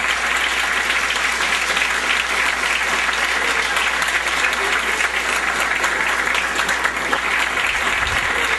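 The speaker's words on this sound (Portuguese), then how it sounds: "Quem tem Jesus aí, aplauda o nome dele" A church congregation claps steadily and loudly throughout during a pastor's sermon, a dense, even wash of applause from a large crowd indoors.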